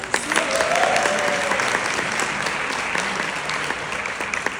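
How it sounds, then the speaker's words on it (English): An audience gives a round of applause after a presentation about using a catalog. The clapping is continuous and fairly loud, sustained evenly throughout with no voices over it. "Give her another round of applause."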